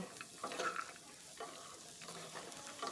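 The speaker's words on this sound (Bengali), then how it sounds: "এবার একসাথে সমস্ত সবজিগুলোকে মিশিয়ে নিচ্ছি" Cauliflower, peas and other vegetables stir-fried together in a wok, with soft sizzling under a spatula scraping and tossing in quick irregular strokes, close and moderately quiet, no voices.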